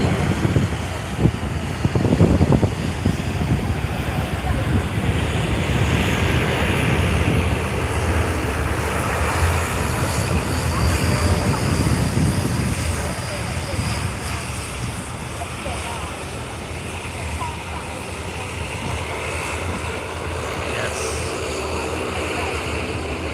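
Air India airliner departing at night during planespotting, its broad jet engine roar rising and swelling at moderate distance, then holding a steady rumble with some wind noise; voices talk intermittently over it.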